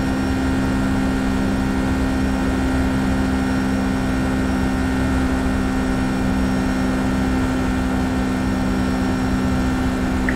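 Boeing 757 freighter engines spooling for takeoff in the X-Plane 11 flight simulator, a loud steady broadband roar with a constant hum, continuous and unbroken throughout.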